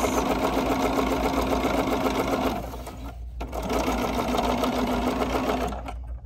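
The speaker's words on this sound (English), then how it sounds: "So we're gonna sew this edge right here, and we're just gonna sew" A sewing machine stitching along a fabric edge, a fast continuous mechanical whir running loud and steady, with a brief pause before resuming.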